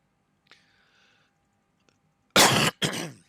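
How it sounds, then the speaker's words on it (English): Two harsh, close coughs from a man in a flight-simulator cockpit session, coming in quick succession after near silence with faint clicks. "Did not mean to cough in your ears."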